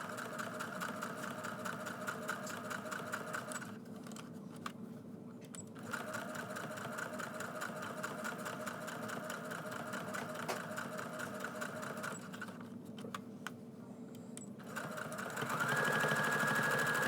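A sewing machine top stitches a child's double-sided bucket hat, running in a steady close whirr with two brief slowdowns or pauses before it speeds up again near the end.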